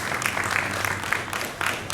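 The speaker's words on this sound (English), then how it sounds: "A round of applause as approaches." Audience applause at a business panel discussion in Nigeria, a dense, steady patter of many hands clapping nearby for about two seconds.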